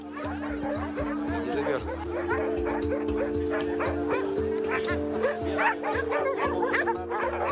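Husky mixes crossed with a local wolf-descended breed in Kamchatka bark, yip and whimper repeatedly, close and lively, with voices talking over them.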